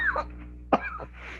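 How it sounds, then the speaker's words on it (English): A few sharp coughs close by during a budget committee meeting, a quick pair followed by another, over a low steady hum. "Somebody's coughing."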